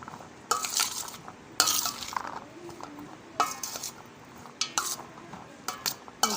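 Boiled chickpeas, potato and onion for chaat are tossed in a bowl with a spoon, producing bursts of scraping and clinking at irregular intervals, close by, with quiet gaps between.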